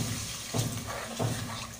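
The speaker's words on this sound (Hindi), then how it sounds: "अब मैं इसके अंदर पानी शामिल करूंगी," Water is poured into fried masala in a pot while cooking achari moong dal. It makes a steady, close splashing hiss that swells in a couple of brief surges, with no talking.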